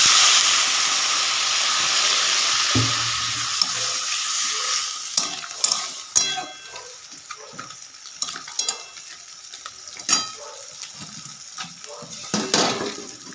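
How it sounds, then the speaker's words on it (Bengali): Water is poured onto fried spice masala in a pan for vegetable dal, and a steady frying sizzle gives way to bubbling and steam hiss, with intermittent clinks and scrapes of stirring close by. "মশলাটা কষা হয়ে গেছে, জল দিয়ে দেবো।"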